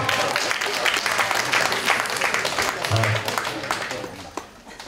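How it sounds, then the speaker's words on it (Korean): An audience applauds with dense, steady clapping that tapers off toward the end, and a voice briefly shows through partway. "박수 한번 주세요."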